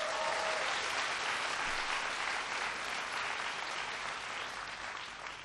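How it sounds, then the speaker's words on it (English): Audience applause at a gathering of young Southeast Asian leaders with the US President, a dense, sustained roar of clapping from a large crowd that holds level and fades slightly at the end. "Give, too, a big round of applause for..."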